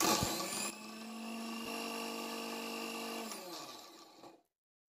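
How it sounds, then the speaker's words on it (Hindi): A mixer grinder grinding chutney whirs loudly with a steady high-pitched motor whine, shifting pitch partway through, then winds down and stops. "अब मैं करती हूँ मिक्सी ऑन"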